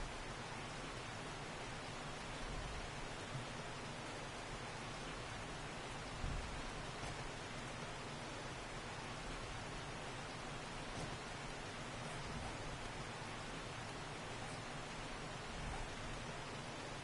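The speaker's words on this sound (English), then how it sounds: "It's starting to rain." Rain falling in the survival video game 7 Days To Die, a steady, even hiss of downpour with faint scattered drops, continuous and unbroken throughout.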